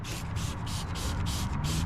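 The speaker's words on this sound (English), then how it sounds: "give her a couple spritz there." Detailer spray hisses from a trigger bottle onto the liner of a 2019-2025 Chevy Silverado 1500, about six quick, even bursts in a row, close and fairly soft.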